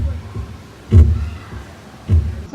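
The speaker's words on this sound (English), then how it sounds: "So apparently the creature went to rest by a drumming noise. It's its heartbeat or something?" Two deep, booming thumps land about a second apart, like a drumming heartbeat effect during a resort scavenger hunt at Aulani, with faint low rumble between them.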